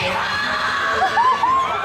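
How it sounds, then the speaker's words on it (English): Shrill, sustained screaming from an excited fan girl amid crowd noise, loud and wavering, with other voices and shouts mixed in. "Then she screamed like her soul left her body."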